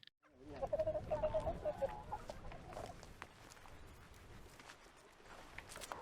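Chickens cluck and call in a short burst close by, a few rapid rooster-like notes at the start before settling into softer farmyard rustling and low background noise.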